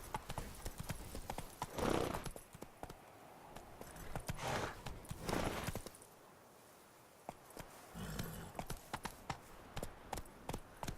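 Roach, a horse in The Witcher 3: Blood and Wine, trots with steady, close clip-clop hoofbeats that rise and fall across the stretch, briefly softening before the rhythm resumes.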